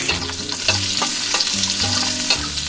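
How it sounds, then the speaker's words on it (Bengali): Loud, continuous sizzling of potato and onion frying in a pan as curry leaves are added, with repeated scraping and stirring strokes in a steady rhythm. "আলু পেঁয়াজগুলো দেখুন হালকা ভাজা হয়ে গেছে, এর মধ্যে আমি কারি পাতা দিয়ে দেবো"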